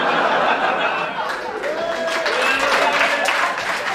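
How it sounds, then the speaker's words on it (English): Audience claps at a staff welcome in a school-assembly comedy sketch, a sustained wash of applause with chuckles and laughter rising through it. "stop clapping."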